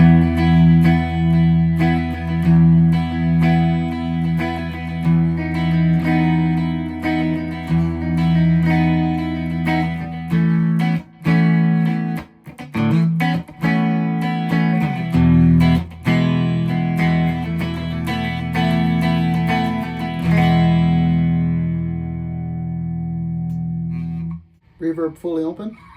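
Squier Telecaster Thinline Classic Vibe electric guitar played through its middle pickup with a clean tone, sustained chords and single notes ringing steadily for about twenty seconds, then fading out before a few final plucked notes.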